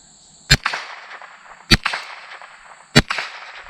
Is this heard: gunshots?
yes